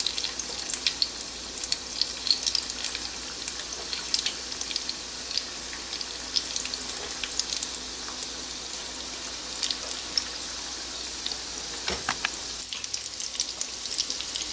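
Chicken pakoras fry in hot oil over medium heat, a steady dense crackling sizzle running throughout, with a brief clink near the end.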